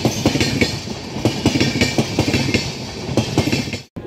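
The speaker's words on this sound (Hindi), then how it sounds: "आज की अपनी रेल यात्रा होने वाली है 14801 जोधपुर इंदौर एक्सप्रेस में" Riding aboard the 14801 Jodhpur Indore Express behind a diesel locomotive, the train rattles loudly with rapid rhythmic clickety-clack of wheels over rail joints, close and constant until a brief sudden drop near the end.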